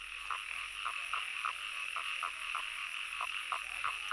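Toads croaking at a pond in spring, a steady series of short, evenly spaced calls repeating over a constant hiss of insects and background ambience, moderately close.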